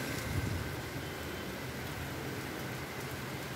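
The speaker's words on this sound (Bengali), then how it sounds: "অনেক বৃষ্টি হচ্ছে" Heavy evening rain falls outside in a steady, even hiss, heard from indoors at a moderate distance with no voices.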